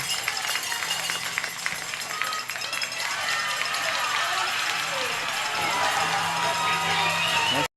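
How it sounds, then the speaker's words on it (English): Georgetown fans cheer and clap at a high school softball game against Santa Fe, a steady, dense crowd roar that runs throughout while an announcer talks over it. "Georgetown fans cheering on"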